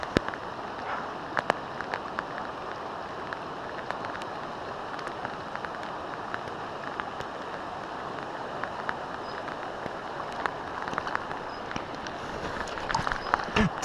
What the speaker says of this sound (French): Sous la pluie diluvienne en plus.